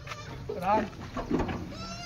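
Kathewadi goats at a livestock sale bleat twice in quick, wavering cries, near and moderately loud against a murmuring background.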